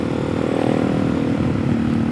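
A 470 Stroker motorcycle engine hums steadily with a low, even drone while being ridden, moderately loud and continuous with no voices.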